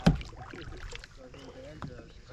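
A kayak paddling on a river among rocky islands, with a paddle stroke splashing loudly at the start, then soft water swishes and wind, and a voice talking faintly over it.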